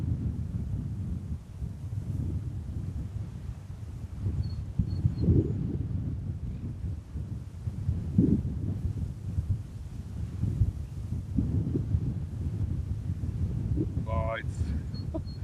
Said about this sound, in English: it's so stormy, so windy.